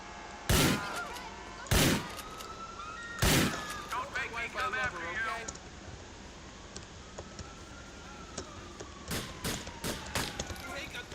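Gunfire in a Grand Theft Auto game, heard as three sharp, loud single shots spaced about a second apart, followed by lighter clatter and two more shots later, with faint talk in between.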